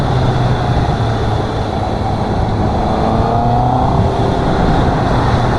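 A 2021 Honda CB650R BS6 four-cylinder motorcycle is ridden at up to around 4000 RPM, its engine and exhaust giving a loud, continuous drone with a slight pitch drift, alongside steady wind rush and no talking.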